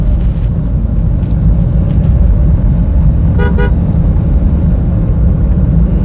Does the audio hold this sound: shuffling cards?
no